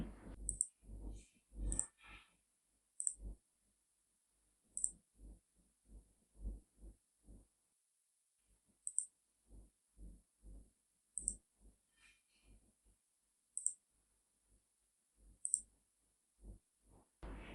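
Mouse clicks in CAD sketching software, sharp isolated taps in small bursts and singles spread across the stretch, close and fairly crisp over a quiet background.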